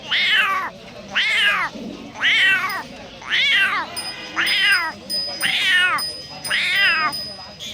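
A voice imitates a cat, giving seven drawn-out meows in a steady rhythm, close and fairly loud, with short pauses between them.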